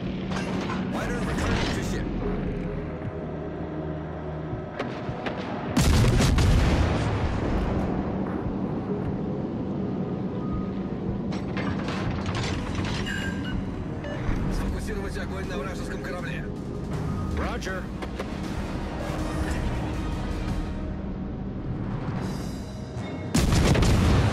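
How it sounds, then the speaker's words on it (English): Naval artillery fire in the warship video game World of Warships: Legends, with heavy booming salvos over a continuous rumbling battle din, and in-game voices calling out orders in between. "Concentrate fire on the enemy warship."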